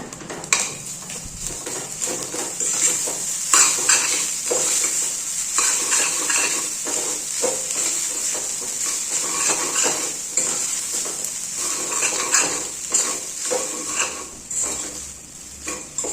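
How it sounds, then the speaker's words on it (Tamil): Coconut rice being mixed in a pan for a lunch box meal, with a spoon scraping and stirring steadily against the metal and a soft sizzle running underneath throughout. "இப்போ எல்லாத்தையும் நல்லா மிக்ஸ் பண்ணுங்க."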